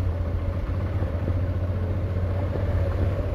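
A motorcycle ridden through a flooded mosque compound, its engine holding a steady, close, low droning hum with no voices over it.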